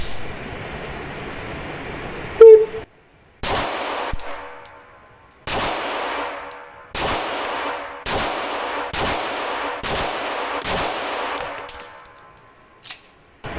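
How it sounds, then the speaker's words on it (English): A pistol with a 1911-angle grip fires at targets, about eight sharp, loud shots spaced slowly, each ringing out with a long echoing decay, preceded by a clank. "this one was just me shooting slow just to get used to the grip"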